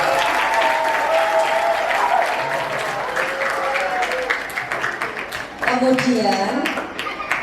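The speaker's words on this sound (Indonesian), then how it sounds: "Tepuk tangan untuk kalian." Students at SMP Negeri 1 Lasem, newly chosen as Adiwiyata school environmental cadres, applaud steadily and fairly loudly while a speaker keeps talking over the clapping.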